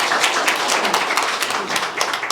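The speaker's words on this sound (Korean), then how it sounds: "큰 박수 부탁드릴게요" At a campaign talk show for a Busan mayoral candidate, a crowd claps with loud, close, brisk hand claps and individual sharp claps standing out in an uneven rhythm.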